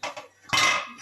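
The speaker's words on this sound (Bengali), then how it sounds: "এই ঢাকা দিয়ে দিলাম" A metal lid set onto a cooking pot of simmering dhokar dalna curry, giving a short clattering clink with a brief ringing tail, close and distinct, with no talking.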